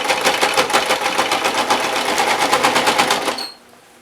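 A sewing machine stitches bias binding onto a seam of quilted pants, running loud and close as a rapid, even mechanical rattle for about three and a half seconds before stopping abruptly.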